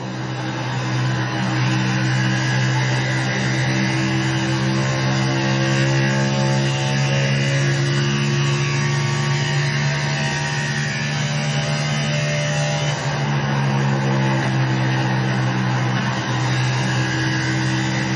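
Race car engine heard onboard through a lap in the iRacing game, a loud, steady droning roar with subtle pitch shifts as the car accelerates and eases through corners, continuous throughout.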